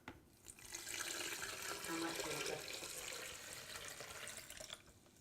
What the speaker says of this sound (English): And then pop your water in.